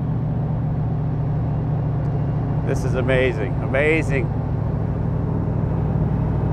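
Engine and exhaust of a 1965 Shelby Cobra Daytona Spyder driving on winding roads, a steady low rumbling drone running throughout, with someone speaking briefly over it partway through.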